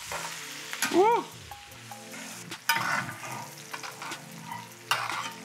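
A ribeye steak sizzles loudly in a hot pan as it is basted with hot butter, with spoon scrapes and sharp spattering bursts. A voice gives one brief excited exclamation.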